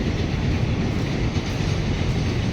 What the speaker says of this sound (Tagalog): Cargo train kasi yan guys, kaya maingay siya.